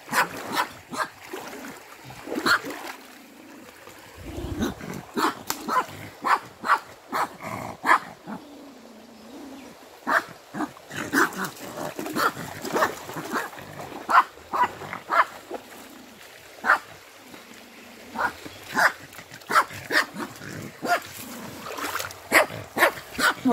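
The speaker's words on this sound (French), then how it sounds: "tous les matins, j'ai 2 chiens dans ma baignoire" Two dogs in a home bathtub, splashing and scrabbling with repeated short barks, whimpers and growls scattered through a long stretch of close, energetic play.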